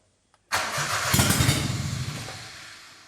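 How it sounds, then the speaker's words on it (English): An engine cranks and catches on a stripped-down race car with no ignition switch, fitted with a $10,000 engine and ECU. It bursts into a loud, rough, pulsing run that settles slightly over a few seconds. "We start the car from here."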